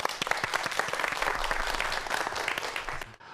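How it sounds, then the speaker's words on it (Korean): A studio audience at a televised architecture lecture breaks into dense, sustained applause that fills the room evenly before cutting off abruptly near the end. "박수 부탁드립니다."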